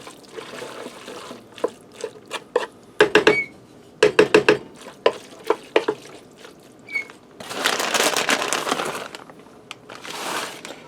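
A spoon stirs cheddar cheese into beef lombardi in a Ninja Speedi cooker, giving close, uneven clinks and scrapes against the pot, with wet squishing and a couple of louder hissing stretches.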